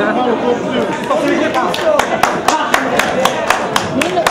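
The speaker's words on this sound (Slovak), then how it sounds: "Obrovský potlesk." Audience applause at a plum festival competition, rhythmic clapping from a crowd with chatter and an announcer speaking over it.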